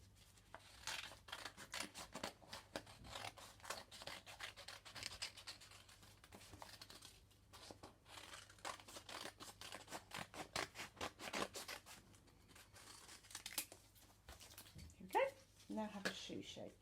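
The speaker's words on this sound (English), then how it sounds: "we're going to cut out the shape we've just made" Scissors snip and scrape through paper while a shoe shape is cut out, in a series of short irregular crunching cuts close by. Quiet talk runs underneath the cutting.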